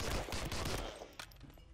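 Rapid gunfire in the World War II shooter Medal of Honor: Allied Assault, a dense burst of loud shots in the first second that thins to scattered fainter cracks.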